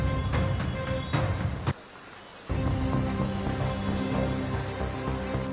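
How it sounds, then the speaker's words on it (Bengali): Rain falls during a thunderstorm in Kolkata as a steady, fairly loud wash of patter with a faint tonal hum underneath. A brief hushed gap interrupts it midway before the downpour sound resumes. "কালো মেঘ জমেছে আকাশে এবং দফায় দফায় বৃষ্টি হয়েই চলেছে।"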